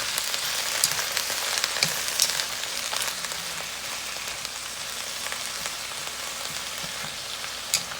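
Shredded cabbage for egg rolls cooking down in a pan, giving a steady, moderately quiet sizzle and crackle with scattered small pops throughout.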